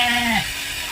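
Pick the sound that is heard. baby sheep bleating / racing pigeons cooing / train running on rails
baby sheep bleating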